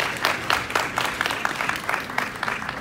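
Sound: audience applause for graduates

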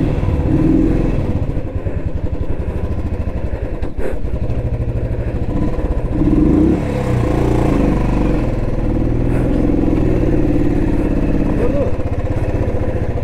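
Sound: motorcycle riding with luggage

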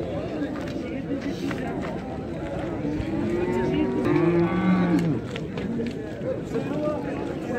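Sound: cow mooing at livestock market

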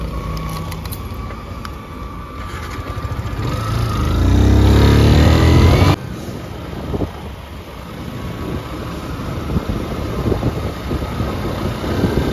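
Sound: motorcycle engine running

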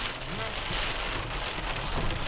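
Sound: rain

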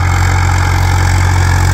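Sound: Swaraj 4x4 tractor engine pulling a harrow

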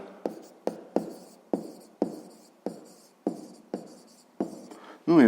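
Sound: pen writing on paper

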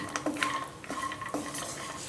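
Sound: cashews and almonds roasting in ghee

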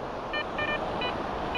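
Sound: metal detector signal beep detecting bottle cap

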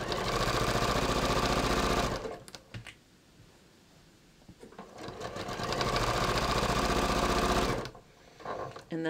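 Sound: sewing machine sewing a pants inseam

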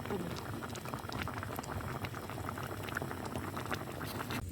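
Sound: corned beef sinigang boiling in a pot

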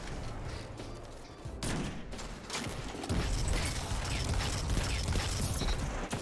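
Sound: gunfire with explosive rounds in video game Destiny

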